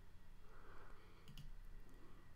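A computer mouse click sounds faintly and softly against quiet background hum, a couple of small taps over a short moment with no voices.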